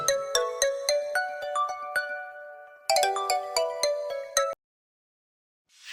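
A mobile phone ringtone plays a melodic electronic tune in two bursts, loud and close, then stops abruptly into silence, in a Barisal-dialect Bengali comedy drama.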